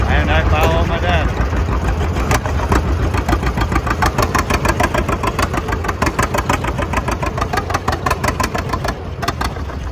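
A deadweight-pulling tractor engine runs loud and close throughout, a heavy rumbling drone with rapid rhythmic firing pulses and occasional surges, as a person talks over it.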